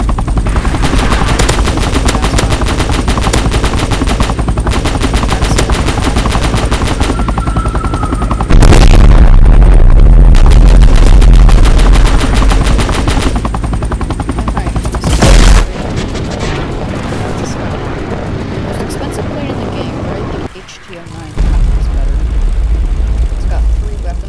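Rapid machine-gun fire and booming shots from the Roblox game Base Battles, loud and dense for most of the stretch, with engine-like drones underneath and a couple of brief gaps.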